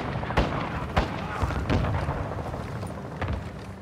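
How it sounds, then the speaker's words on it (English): Friendly airstrike explosions in Call of Duty: Modern Warfare II, a series of sharp booms and blasts landing at irregular intervals over rumbling battlefield noise. "Force friendly airstrike on the way."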